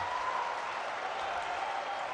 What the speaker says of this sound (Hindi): आदरणीय श्री मोदी जी का जोरदार तालियां बजाकर आप अभिनंदन करें